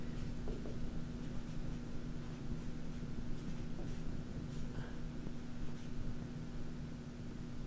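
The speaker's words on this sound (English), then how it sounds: "let's actually write these over here so we have a little bit more room to work with" A pen or marker scratches and taps as equations are written out, soft intermittent strokes over a steady background hiss and low hum, with no talk.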